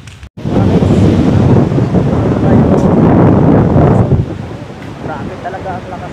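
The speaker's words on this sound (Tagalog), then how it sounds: "Kaso lang medyo malakas yata yung ano, yung hangin." Strong wind buffets the microphone in loud, rushing gusts by the sea, with surf faintly beneath, easing off toward the end.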